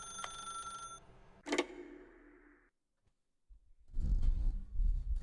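An office desk telephone rings in The Stanley Parable video game, a steady electronic ring that repeats, stops, then gives way after a pause to a burst of louder noise.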